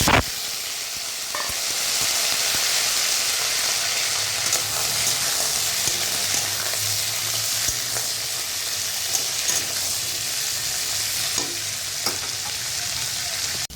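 Vegetables frying in a pan, a continuous, loud, bright sizzle with occasional stirring clatter and scrapes, steady throughout with no voices.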